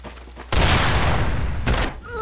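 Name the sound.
gunshot in a video game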